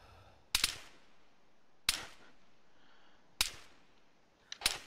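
Four sharp gunshots crack out one by one at irregular intervals, each with a short ringing tail, fired to shoot out lights in the Arma 3 military video game; no talking.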